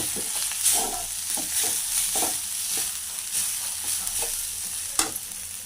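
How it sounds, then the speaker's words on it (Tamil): Sautéed vegetables with ground coconut powder being stirred in a pan, a spoon scraping in a steady rhythm of soft strokes over a continuous low sizzle, close and fairly loud with no talking. "ஒரு 5 நிமிஷம் கிளறி விட்டுருங்க."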